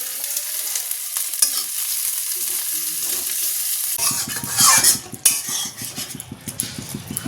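Small fish curry with green tomato bubbling in a pan on a gas stove, steady close sizzle with a spoon stirring and scraping against the metal, then a rhythmic pulsing simmer in the second half, no voices.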